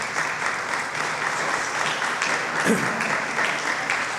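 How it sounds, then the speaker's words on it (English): Audience at a community event giving a round of applause: loud, continuous clapping from a crowd, close and steady for the whole stretch, with a brief voice rising through it midway. "So give them a round of applause."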